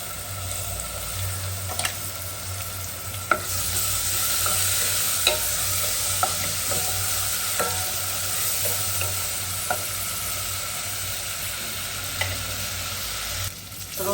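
Garlic paste sizzles in hot oil with fried onions while a spoon stirs steadily, giving a continuous frying hiss broken by scraping strokes and occasional clicks, close and with no talking.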